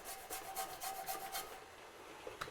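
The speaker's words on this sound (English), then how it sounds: "I just want to show you a few great options for grating lemon" Lemon is rubbed against a metal grater in a quick series of faint, close rasping strokes that stop after about a second and a half.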